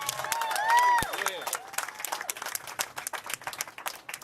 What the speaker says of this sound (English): So if you can please give them a round of applause.